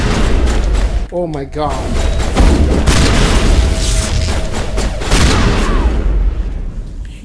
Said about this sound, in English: Let's use the shotgun.